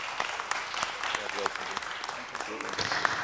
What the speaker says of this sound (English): I hope you all join me in a round of applause for this dedicated city servant